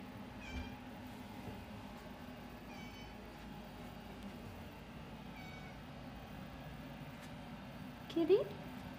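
A cat gives a short meow near the end, fairly close, over a steady background hum in a quiet room.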